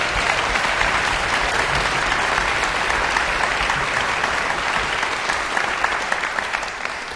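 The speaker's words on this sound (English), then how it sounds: "so can we give him another round of applause?" A concert hall audience gives an orchestra clarinet soloist another round of applause at a singing competition final, dense even clapping that stays loud throughout and eases slightly near the end.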